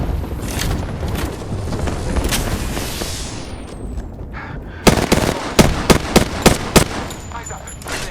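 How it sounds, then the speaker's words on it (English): Gunfire in the video game Apex Legends: dense, noisy game action gives way to a string of sharp, loud shots in an uneven, rapid rhythm near the end, with voices present in the mix. "Opening fire."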